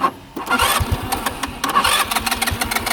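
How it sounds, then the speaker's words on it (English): Push-button start of a motor scooter: the engine cranks with a choppy stutter, catches, and runs unevenly with irregular pulsing revs, close and fairly loud. "Alright, now hold the brake in and push the start button."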